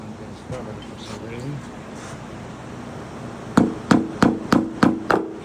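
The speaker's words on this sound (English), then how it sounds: "I just take my little ball peen hammer, just gently tap them in" A small ball peen hammer taps mirror clips into the body of a 1965 Ford Thunderbird: six crisp, evenly spaced metallic knocks, close and distinct, coming after a stretch of quiet room sound with faint talk.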